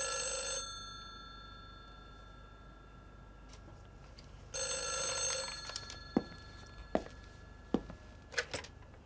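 An old-fashioned telephone bell rings twice in long bursts in a quiet room, followed by several sharp knocks or clacks, with no talking.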